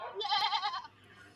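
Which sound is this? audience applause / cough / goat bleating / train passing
goat bleating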